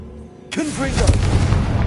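Confringo blasting spell explosion in Hogwarts Legacy: a sudden loud blast after a short lull, followed by rumbling, crackling debris, with a voice briefly heard over the boom.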